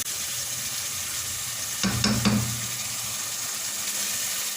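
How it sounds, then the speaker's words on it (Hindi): Chicken gola kabab and dried plums are gently mixed into a sizzling masala in a hot pan, a steady frying hiss broken by a brief burst of stirring scrapes and clatter near the middle. "हल्के हाथ के साथ मिक्स करेंगे।"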